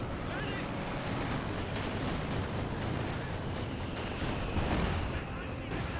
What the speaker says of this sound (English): Multiple mortar hits there.